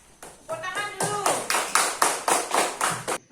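A classroom group claps after a student presentation, a run of evenly spaced hand claps rising in strength, with a voice briefly heard at the start.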